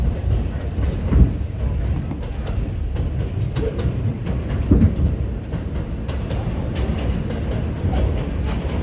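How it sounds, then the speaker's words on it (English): An elevated subway train rumbles past in Brooklyn, New York, a loud, steady low roar with rhythmic wheel clatter and occasional metallic clicks, heard close by and without talk. "Imagine people living here by the subway, elevated subway all the time."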